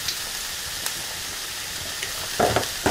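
Tomato paste roasting with vegetables in a large pot, giving a continuous even sizzle and hiss, with a few light clinks near the end.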